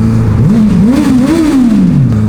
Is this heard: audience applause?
no